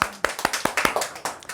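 An audience at a church gathering claps for a short burst, a dozen or so uneven, close hand claps that fade out, no talk.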